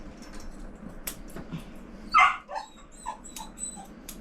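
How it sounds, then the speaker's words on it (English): Inside a dog grooming salon, a dog gives a few short barks and yips over a low background hum, with one sharp, loud bark standing out midway and fainter whimpers around it. "Every time there's a bark, I have to mute the sound."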